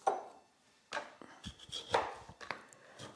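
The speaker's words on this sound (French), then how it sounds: "les betteraves, je vais les couper en 4" A knife cuts raw beetroots into quarters on a board, giving several distinct, fairly close chopping thuds and knocks with short pauses between them.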